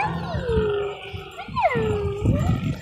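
A small dog howls and whimpers close by, with long, sliding, wavering cries and short whines over a faint background of handling noise.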